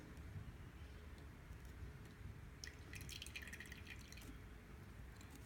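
Liquid drips from a laboratory burette into a beaker in a few faint, quick drops clustered near the middle, over a quiet background with no talking.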